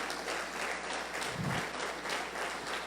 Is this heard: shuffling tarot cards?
no